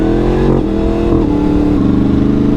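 A Yamaha MT-10 motorcycle engine revs while being ridden, loud and close, with the pitch climbing and dropping through several gear changes in a throaty, continuous drone.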